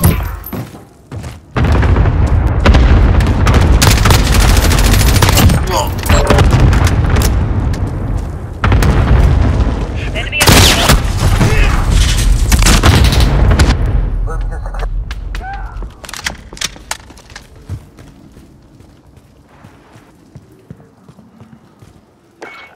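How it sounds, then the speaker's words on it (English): Cluster strike explosions in the video game Call of Duty: Modern Warfare Season 3 land as a rapid series of loud, deep booms and thuds. Heavy rumbling fills the first half, then fades into quieter debris and ambience. "Enemy cluster strike incoming. Take cover."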